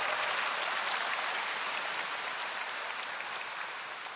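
Sustained, dense applause from a concert audience celebrating an archbishop's installation in Seoul, steady and full throughout with a slight fade near the end and no voices over it.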